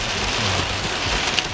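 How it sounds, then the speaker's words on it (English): A heavy rain downpour during a storm hisses steadily and densely, an unbroken wash of water pounding the surface, heard from a car. "in the middle of a downpour."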